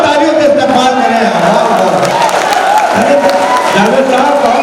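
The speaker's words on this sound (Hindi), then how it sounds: "अरे जोरदार तालियों से इस्तेमाल करें।" An audience at a mushaira applauds loudly and without a break, mixed with crowd noise and a voice speaking over the clapping.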